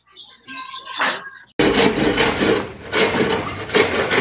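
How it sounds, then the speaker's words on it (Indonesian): Hand saw cutting wood to build a bird cage, a loud steady rasping that starts abruptly after a quiet stretch of faint chirpy noise, close to the listener. "Teknik menggeraji yang benar gimana"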